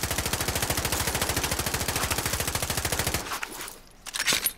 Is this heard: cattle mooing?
no